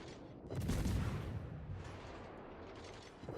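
A deep rumbling boom of warship turret guns firing in World of Warships, one heavy salvo swelling early and then decaying into a long low roar, with a small thump near the end.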